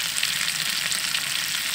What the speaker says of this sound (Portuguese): fritando uma empim aqui